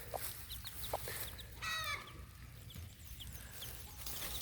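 A hen clucks softly among her newborn chicks outdoors on a chilly late-April day, with a brief rooster-like call midway and faint high peeping throughout over steady low background noise.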